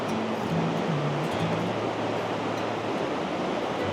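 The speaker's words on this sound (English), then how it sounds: "looks like we have Cascada numero uno, waterfall number 1" A rushing waterfall in the Ecuador rainforest roars as a steady, broadband wash of falling water, close and constant throughout, with a few faint tonal notes near the start.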